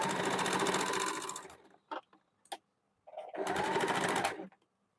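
Sewing machine running a seam along a marked line on a men's short kurta, loud close bursts of fast rhythmic stitching, a long run, brief taps and a pause, then another long run.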